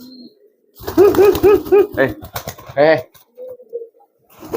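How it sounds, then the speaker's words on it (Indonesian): A kolong pigeon coos in a rapid run of throaty warbles, followed by wing flaps and a few more soft coos, close by, with someone speaking at moments. "Tuh, ini merpati kolong."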